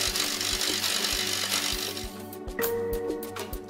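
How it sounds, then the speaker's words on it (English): Chipping rust off a ship's iron surface on board, a rapid mechanical hammering that runs steadily and fairly loud, with sharper metallic strikes and a brief high ring near the end. "This begins with the removal of rust by chipping"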